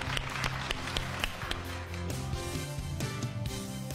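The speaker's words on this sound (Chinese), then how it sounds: "我们掌声欢迎他" An audience claps in welcome as a school principal from the British School of Beijing is introduced at an education event, dense steady applause with a few closer, sharper claps.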